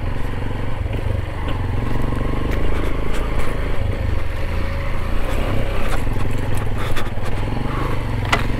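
An automatic scooter-style motorcycle engine drones on a rough mountain trail near Bromo, with continuous revving noise mixed with clattering, scraping and crackling from the bumpy track and branches, loud and close throughout.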